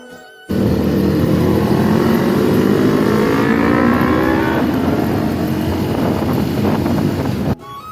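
A big bike motorcycle passes on a hot day, its engine roar rising loud and close with a steady climbing whine, holding for several seconds before cutting off abruptly.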